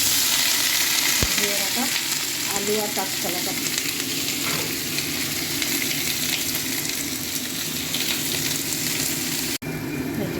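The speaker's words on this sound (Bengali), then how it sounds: "এবারে চড়বড় চড়বড় করবে যেই ফোড়নটা দিয়ে দেবো" Panch phoron whole spices crackle and sizzle in hot oil in a Bengali home kitchen, a steady busy frying hiss with small pops, close and loud, while a voice speaks briefly over it.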